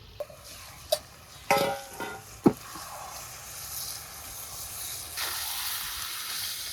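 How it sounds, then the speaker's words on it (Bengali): Spices frying in hot tempering oil for dhania chicken, with a few sharp crackles and stirring clatters early on, then a steadier sizzling hiss that swells near the end. "ফোড়নের তেলের উপর ভাজা ভাজা করে নিলাম"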